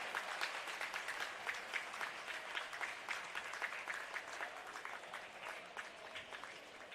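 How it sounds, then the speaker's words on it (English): Sustained applause from a crowd at a women's college basketball game, steady dense clapping throughout without a break. "Let's have a round of applause for number 4."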